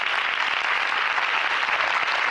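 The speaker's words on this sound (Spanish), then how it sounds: "Un aplauso para ella." Audience at a mental health event applauding writer Inma Rubiales, an even, sustained burst of clapping from many hands.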